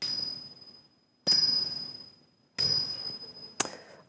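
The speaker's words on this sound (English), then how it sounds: "I'm going to ring the little bells, and I'm going to invite us to take part in this exercise" Small bells rung to open a mindfulness exercise: three clear, ringing strikes spaced about a second apart, each decaying slowly, followed by a quick fourth tap, close and alone without talk.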